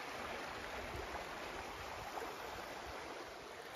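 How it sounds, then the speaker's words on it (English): River in the Omahuta-Puketi forest in New Zealand: broadband rushing water, steady and moderately loud, with no voices. "There's the river."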